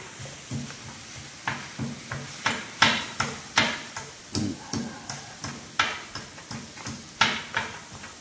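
Repeated soft thuds and scraping clatters of a utensil mashing boiled potato in a metal pan, steady rhythmic strokes about twice a second.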